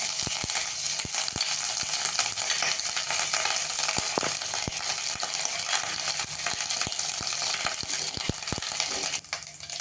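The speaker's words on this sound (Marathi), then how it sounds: "त्याच्यात लसूण घालूया। लसूण आणि आलं भरपूर लागतं, त्यामध्ये आल्याचा किसही घालते।" Garlic and grated ginger sizzle in hot oil in a pan for a ragi vegetable soup, a dense, continuous frying hiss close up with frequent small pops and clicks throughout.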